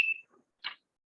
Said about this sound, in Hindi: तो तुम लोग को बजर सुनाई दे रहा है कि नहीं सुनाई दे रहा है?